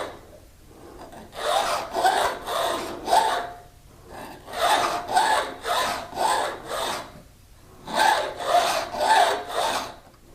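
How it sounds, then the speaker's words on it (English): A half round file rasps around the inside of a metal ring band being made into a hollow donut ring, in close, rhythmic bursts of strokes separated by short pauses. "reduce the inner portion of this band and doing it evenly with a half round file"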